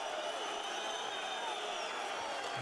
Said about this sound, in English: The crowd have unsurprisingly been into this right from the start.